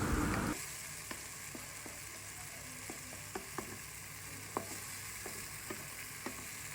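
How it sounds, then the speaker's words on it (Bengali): Turmeric and coriander powder sauté in a pan with a faint, low hiss, broken by soft, scattered taps and scrapes of a stirring spoon. There is no speech. "হলুদের গুঁড়া আর ধনিয়ার গুঁড়া। মিক্স করে এগুলো একটু কষাতে থাকবো"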